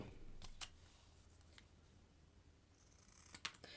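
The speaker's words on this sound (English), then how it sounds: "I'm just going to eyeball and cut." Scissors cutting by eye through a paper strip for a mini notecard set, with a few quick crisp snips near the start and a cluster at the end, close and quiet in a still room.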